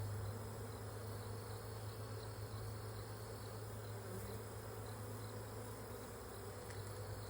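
A honeybee flying close to a beekeeper's face during a backyard hive inspection, a steady buzzing drone that holds through the whole stretch over outdoor background noise, with no talking.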